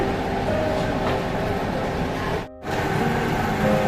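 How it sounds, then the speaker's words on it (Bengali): A potato washing and cutting machine at a chips workshop in Duttapukur runs with a loud, steady mechanical rumble and rush, broken by one brief dip near the end. "মেশিনে আলুটা এখানে আলুগুলো দিয়ে দিচ্ছি এখান থেকে ছোট ছোট পিচ হয়ে বেরিয়ে আসছে"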